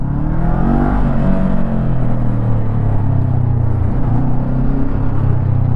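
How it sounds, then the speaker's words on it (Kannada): A 2024 Honda NX500 adventure-touring motorcycle is ridden on the road, its exhaust giving a loud, continuous throaty drone. The pitch shifts as the rider accelerates, with wind rush behind it and no talk. "ಎಕ್ಸಾಸ್ಟ್ ಈ ಥರ ಕೇಳಿಸುತ್ತೆ."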